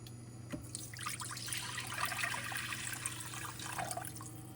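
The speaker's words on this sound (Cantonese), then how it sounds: "我哋加水" Faint splashing and trickling of water being poured into an oiled, unwashed wok for braising sea cucumber, over a low steady hum, with no talking.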